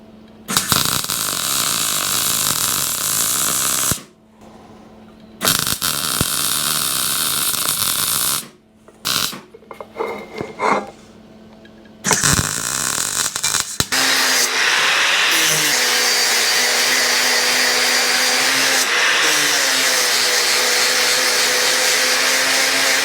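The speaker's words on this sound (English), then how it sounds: "So I'm going to get that welded up, get that cut out, and then continue from there." A plasma cutter welds and cuts into a dummy oil tank, giving loud, steady hissing roars in several bursts with short gaps, then one long unbroken roar through the second half, with no voices.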